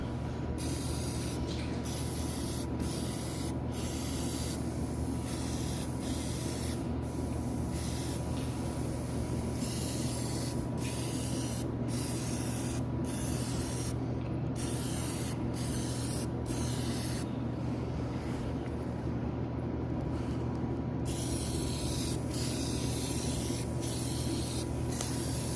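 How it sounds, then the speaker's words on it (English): Parts of a John Deere X300 lawn tractor are spray painted, a loud, close, steady hiss broken by many brief pauses between bursts, with no talking. "So I'm gonna spray."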